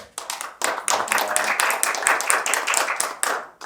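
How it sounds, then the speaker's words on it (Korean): Audience at a Seoul financial innovation forum claps in bursts of welcoming applause, with brief gaps between waves of moderately loud hand claps. "한 분씩 소개해드릴 때마다 큰 박수로 환영해 주시기 바랍니다."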